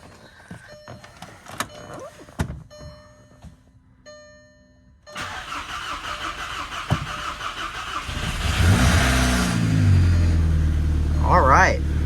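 A VW GLI with a replacement engine cranks, fires and settles into a steady, close idle after quiet clicks and a chime, with a voice briefly heard near the end.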